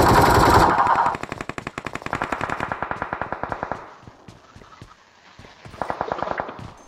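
Rapid automatic gunfire in BGMI, a long fast string of sharp evenly spaced shots that trails off, followed by a further short burst, close and loud with no talk.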